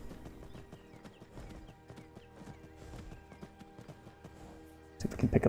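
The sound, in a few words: horse galloping, from a video game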